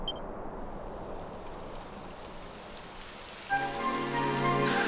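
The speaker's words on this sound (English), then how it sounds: "It would have to go and start raining, wouldn't it?" Steady hiss of rain falling in the video game Dragon Quest 11 S, a soft continuous patter that holds evenly, with layered musical tones rising in over the final second or so.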